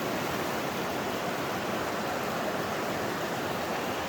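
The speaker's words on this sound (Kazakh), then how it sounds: "Таудың суы сарқырап ағып жатқан тап-таза мұздай су." Icy, clear mountain stream water rushes steadily in a gorge, a dense, close and continuous roar of turbulent flow with no pauses and no voices.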